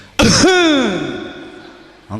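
A voice mimics a loud, harsh throat clearing, one forceful rasping burst that trails off, delivered during a sermon.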